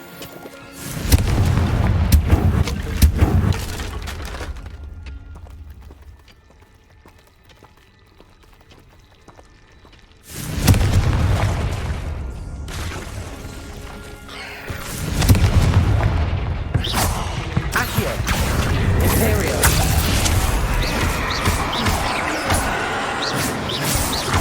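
Confringo blasting spell explosions in Hogwarts Legacy: loud, booming blasts with crashing debris, a heavy burst at the start, a lull, then two more powerful explosions followed by sustained rumbling and rattling.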